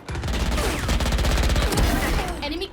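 Rapid gunfire in Valorant, a dense, loud rattle of shots fired in quick bursts up close, continuing for nearly three seconds with only brief gaps.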